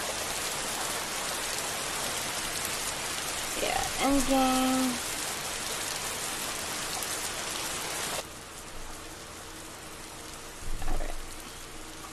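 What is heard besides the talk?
rain in the video game Bloxburg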